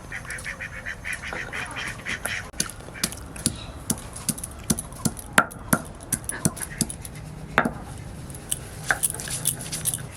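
Coconut and ginger are ground finely on a grinding stone with repeated scraping, knocking strokes in an irregular rhythm, close and moderately loud.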